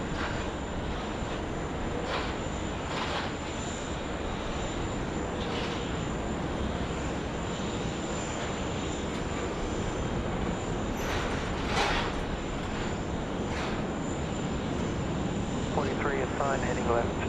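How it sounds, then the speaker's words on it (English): A Singapore Airlines Airbus A350 lands on runway 34 left at Sydney Airport: a broad, steady jet roar that holds at an even level for the whole stretch, with faint intermittent voices or radio underneath. "Singapore, A350 coming into land, 3-4 left."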